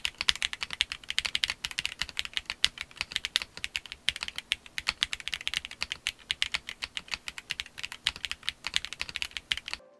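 Rapid, steady typing on a Monsgeek M1W mechanical keyboard with its case foam removed, dense clacky keystrokes close up and alone, continuous for the whole stretch.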